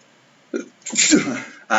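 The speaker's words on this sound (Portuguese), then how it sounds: "Espirrei." A single close sneeze from a person, a short sharp intake followed by a loud burst, with a brief vocal sound right after.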